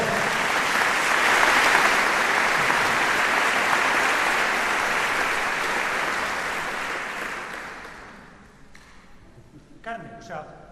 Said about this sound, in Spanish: Un aplauso para Carmen, por favor.